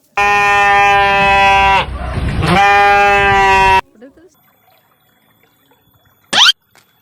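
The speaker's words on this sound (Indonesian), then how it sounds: "domba itu seperti ini" A sheep gives a loud, close, drawn-out bleat lasting a few seconds, followed by near silence and a brief sharp sound near the end.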